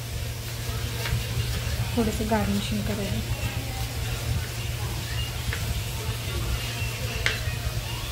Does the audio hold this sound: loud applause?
no